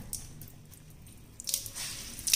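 Fresh paneer tied in cloth is squeezed by hand, giving soft, wet squishes and a faint drip, quiet at first and then louder in short bursts near the end.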